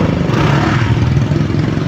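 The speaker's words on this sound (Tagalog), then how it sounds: "Ang motor." A motorcycle engine runs steadily close by, a continuous low rumble with a dense throbbing texture and no clear rise or fall in revs.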